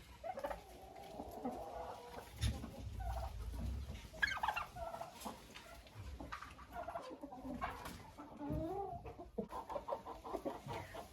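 A laying hen pushing toward her nest clucks repeatedly at moderate distance, mixed with turkey gobbling and other fowl calls in a poultry yard, with no talk.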